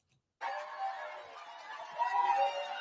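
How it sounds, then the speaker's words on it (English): A high-pitched crowd cheers and shrieks at an Iowa political event, bursting in after a brief near-silence and holding steady, with the roar swelling toward the end. "That's a very high-pitched crowd right there."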